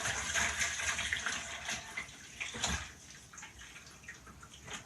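Homemade rose water poured through a sieve into a bowl, a soft continuous trickling and splashing of liquid that rises and dips over a few seconds, close by and fairly quiet.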